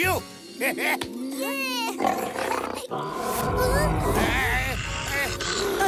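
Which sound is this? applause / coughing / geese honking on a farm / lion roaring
lion roaring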